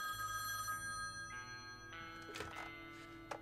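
A telephone rings with a bright, repeating electronic bell in the horror video game The Quarry, standing out clearly over a low, steady game soundtrack and ambience with no talking.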